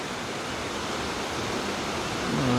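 A waterfall pouring in view of a house balcony, a steady broad rushing roar heard from a distance with no break, growing slightly louder at the end where a faint tonal sound enters.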